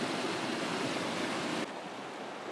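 Steady, loud rush of a flowing river in the Kananaskis backcountry, a continuous broadband roar with no voices that drops slightly in level partway through.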